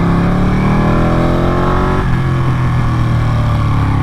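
A Ducati Panigale motorcycle engine revs close by, its pitch climbing steadily before dropping sharply into a lower, rougher drone as it carries on loudly.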